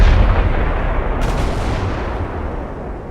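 Warship gunfire in the naval battle game Ultimate Admiral: Dreadnoughts comes as a loud, continuous low rumbling boom with dense rolling blasts and a sharp crack partway through, heard alone with no talk.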